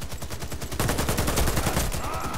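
M60 machine gun firing in Warface: a rapid, evenly spaced stream of loud, punchy shots, continuous throughout and growing heavier partway through.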